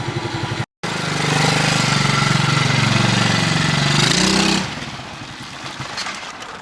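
A small engine on a cheap garage-sale ATV runs loud and close with a steady buzzing drone that rises in pitch, then drops away suddenly to a quieter idle-like rumble.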